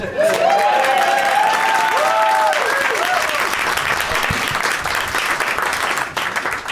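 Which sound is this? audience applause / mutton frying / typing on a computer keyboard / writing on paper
audience applause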